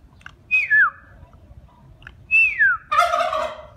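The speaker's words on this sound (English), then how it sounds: "That's a huge male turkey." A turkey gobbles twice, each a quick descending warble, the second followed by a brief loud squawk, over faint background noise.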